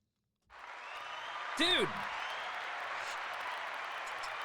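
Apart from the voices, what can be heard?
applause sound effect from a clap button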